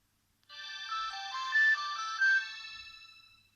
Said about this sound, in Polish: Telefon nam się uruchomił.